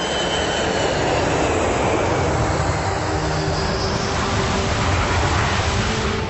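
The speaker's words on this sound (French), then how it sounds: "L'avion arrive en gros à 250 km/h." A Rafale jet lands on the aircraft carrier Charles de Gaulle, arriving at roughly 250 km/h with arrestor cables to stop it. A loud, steady broadband jet roar fills the clip without a break, and no voices are heard.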